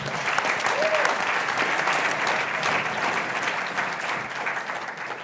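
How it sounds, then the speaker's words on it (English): Dense, sustained audience applause fills a business seminar room for a real estate investor from Las Vegas, a continuous wash of many hands clapping at even loudness. "Give Nick a round of applause."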